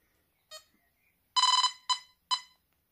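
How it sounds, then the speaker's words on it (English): An XP MI-6 metal detecting pinpointer sounds a short electronic beep, then a longer buzzing pulse tone followed by two quick pulses, clean and isolated against silence. "you can change the tone of the pulse."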